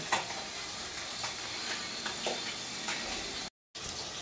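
Fish fries steadily in a pan with a soft, constant sizzle and hiss, faint and unbroken apart from a brief gap near the end.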